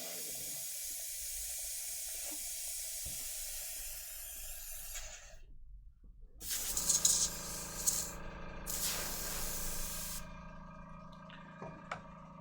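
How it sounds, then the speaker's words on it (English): An airbrush sprays paint onto miniature vehicles, a faint steady hiss broken by brief pauses, then resuming in short uneven bursts close by, with no talking. "All right, there will be more airbrushing."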